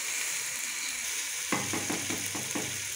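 Chicken karahi frying in ghee at a street food stall, a steady loud sizzle joined halfway through by rhythmic scraping and stirring strokes of a utensil against the pan.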